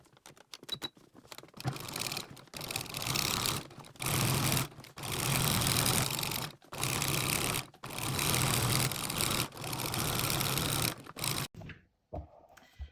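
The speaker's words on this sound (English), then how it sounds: "you're going to stitch your quilting stitch on to secure your batting and your fabric together" A sewing machine running a quilting stitch through fabric and batting for a placemat, close and loud in repeated bursts of steady rapid whirring separated by short pauses, trailing off into quiet handling at the end.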